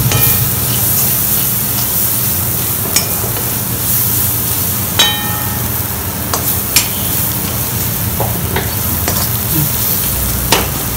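A spiced mixture for kurma sizzling loudly in a pan while a spatula stirs and knocks against the metal in scattered sharp taps over the constant frying hiss.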